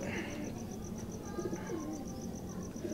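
Bankay pigeons, a dark-eyed breed, coo softly and repeatedly against a steady, noisy background with a faint high whistle.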